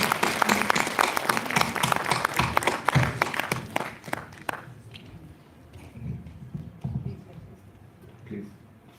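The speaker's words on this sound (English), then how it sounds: "Please give a huge round of applause." An audience at a book release in a hall bursts into loud, dense clapping that stops abruptly after about four seconds, followed by quieter room sounds and talking.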